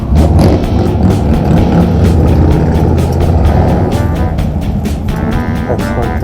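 A 2017 Harley-Davidson V-Rod Muscle motorcycle engine runs loud and close during a test ride in South San Francisco, a steady droning roar with wind rush and no break.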